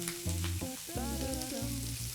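Close, steady sizzle of food frying in a pan until crisp and browned, a continuous hiss with a few light shifts and no voices.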